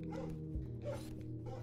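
A distressed dog whimpers and whines in short, strained bursts over a steady low background hum, close by and fairly loud, after mowing on a hot day.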